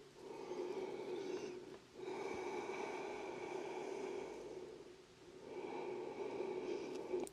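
Slow, calm breathing during a yoga hip-opening pose, with long, soft inhales and exhales drawn out over several seconds, close and quiet, each breath followed by a brief pause.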